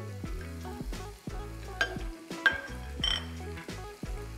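Curry leaves and finely chopped green chillies frying in oil, with a sizzle under clinking and stirring noises and louder spitting bursts now and then, while chopped onion is about to go in.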